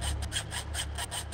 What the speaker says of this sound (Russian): Пила должна срезать цепочку на двери.